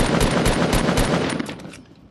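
Rapid assault rifle fire in the Fortnite video game forms a dense, loud burst of shots that fades away near the end, with no talking.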